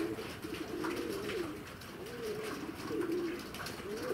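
Pigeons coo repeatedly in a morning loft or yard, their low, rolling calls rising and falling in steady overlapping phrases at moderate volume with no talking.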